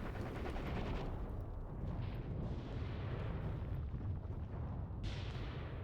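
Artillery shells explode continuously in the WWII strategy game Mius Front, a dense, heavy rumble of overlapping blasts with sharper impacts breaking through, loud and sustained with no talking.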